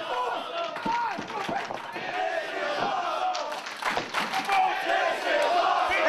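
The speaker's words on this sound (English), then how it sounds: "And this NWA Houston crowd loving what they're seeing right now." NWA Houston wrestling crowd cheering and shouting during a match, with a steady roar of voices and occasional thuds from the ring, heard under excited commentary.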